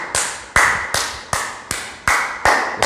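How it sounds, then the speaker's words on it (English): Hand clapping during a yoga session: seven sharp, evenly spaced claps, each loud and close with a short decaying tail, heard on their own with no talking. "Start clapping more and more, wider, louder."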